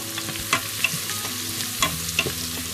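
Chilli with onions and garlic frying in a pan for lamb pilau, a steady soft sizzle broken by several louder scraping stirs of a utensil against the pan, close up with no talking.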